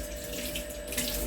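Tap water runs steadily into a kitchen sink while cookware is rinsed out during cooking, a continuous close splashing hiss with no talking.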